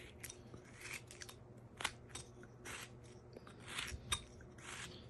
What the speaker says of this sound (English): the first thing I want to do is just make a stop cut right at that